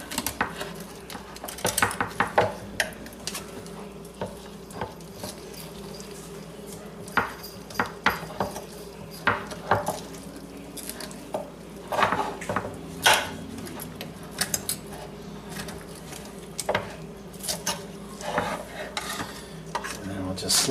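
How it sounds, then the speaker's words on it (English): Teriyaki beef ribs are carved with a knife, giving scattered light clicks and scrapes of metal against plate or board over quiet background noise. "Just slice some of this meat off."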